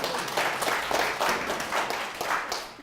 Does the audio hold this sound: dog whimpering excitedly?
no